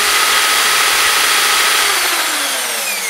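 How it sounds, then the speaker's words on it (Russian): An electric drill spins a steel knitting needle carrying a magnetic ball, giving a steady, loud whirring motor drone that holds evenly throughout with no talk. "Включаю дрель."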